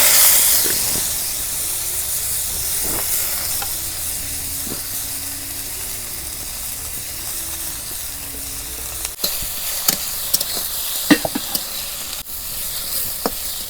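Onions sizzle steadily in a little mustard oil as fried onions for egg biryani are cooked, a constant close hiss broken by a few sharper spatters and stirring knocks toward the end.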